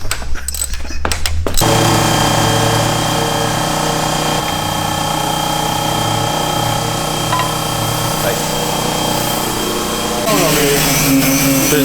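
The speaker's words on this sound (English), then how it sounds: "The sanding." A power sander works on the body of a Mazda RX7 show car, a steady buzzing whine running continuously for about ten seconds with a brief pitch shift near the end, after a few seconds of quieter room sound at the start.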